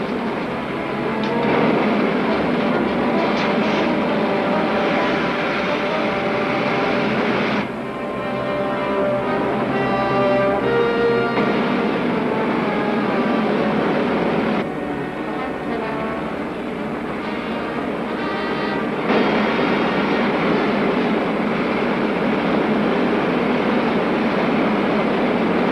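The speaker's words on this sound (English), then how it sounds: "Fire main jets." Rocket ship main jets firing in an old sci-fi serial: a steady, loud roaring rush with a rattling mechanical texture, continuous throughout and swelling in bursts.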